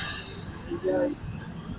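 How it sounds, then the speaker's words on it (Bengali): A train passes a level crossing where a motorbike waits at the lowered gate, with a low rolling rumble and a brief metallic wheel squeal in the middle of the short stretch. "চলো ট্রেনে এসে গেছে"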